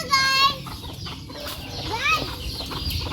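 Chicks being fed madre de agua leaves, giving a few bright, high chirps in short bursts, close by over a low background murmur.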